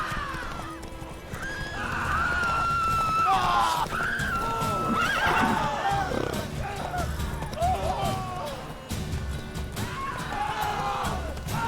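Roach the horse in The Witcher 3, with repeated clip-clopping hooves and several loud neighs and whinnies up close, plus brief voices mixed in.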